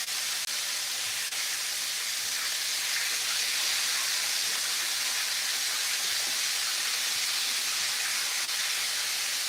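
Chicken pieces frying in grease in a home kitchen pan give off a steady, dense hiss of sizzling oil that holds at an even level throughout, close and continuous with no talk.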